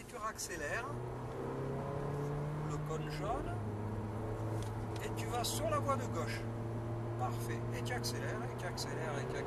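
A Mercedes A-Class car accelerates hard on a closed test circuit, its engine note rising in pitch, dropping briefly at a gear change and climbing again, heard from inside the cabin, faint and steady under a continuous drone.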